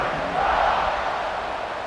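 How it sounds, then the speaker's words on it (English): A large football stadium crowd buzzes and roars after a score, producing a dense, steady wash of many voices that stays loud throughout. "this crowd is buzzing after that last score"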